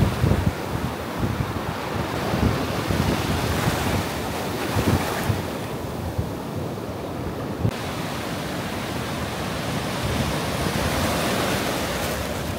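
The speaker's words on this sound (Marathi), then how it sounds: "तर मित्रांनो, हा आपला कुणकेश्वर कातवणमधील समुद्रकिनारा." Sea waves wash onto Kunkeshwar beach on the Konkan coast in a continuous broad roar of surf, mixed with gusty wind buffeting the microphone, with no voices heard.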